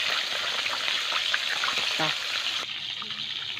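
Fish, a tilapia, frying in a pan gives a steady, loud hiss of bubbling oil with small crackles, cutting abruptly to a quieter background near the end.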